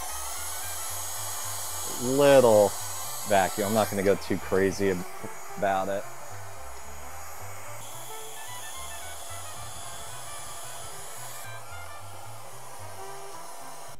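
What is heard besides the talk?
small vacuum cleaning dust off a dehumidifier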